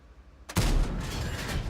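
A single heavy cannon shot from an AMX 30 B tank in a video game: a sudden loud boom after a quiet moment, followed by a sustained rumbling tail.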